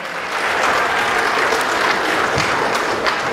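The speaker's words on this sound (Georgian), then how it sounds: "აპლოდისმენტებით გავაცილოთ ანსამბლი ოქროს ფარი სცენიდან" An audience gives loud, sustained, dense applause as the Okros Pari ensemble leaves the stage at a Children's Protection Day program on June 1. No voices are heard over the clapping.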